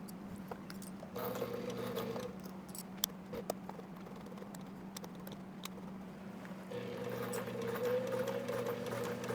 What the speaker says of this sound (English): I finished this seam, taking extra care when sewing over the large molded zipper teeth